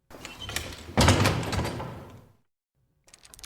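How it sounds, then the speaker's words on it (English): A heavy door in a radio drama of Dracula is shut with a loud thudding swing that fades out over about two seconds, followed by silence and then a faint clatter of chains. "The door is shut,"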